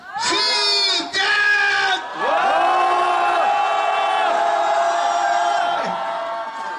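A large crowd at a peace march rally in Korea lets out a loud, sustained collective roar of shouting and cheering, one brief dip early on before swelling again and holding strong to the end.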